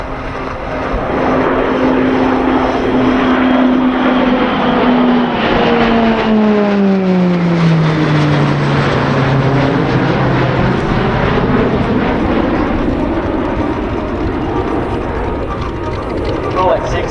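Two Roulettes PC-21 turboprop aircraft roar past together in a mirror formation pass at an air show, a loud sustained propeller drone with a falling Doppler pitch as they sweep by overhead.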